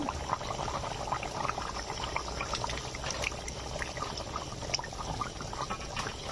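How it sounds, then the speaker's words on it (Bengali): Chela fish curry broth bubbling in a pan as fried fish is added, a faint, continuous crackle of small bubbles and gentle liquid movement with no talking. "আর দেখুন ঝোলটা ফুটতে শুরু করে দিয়েছে"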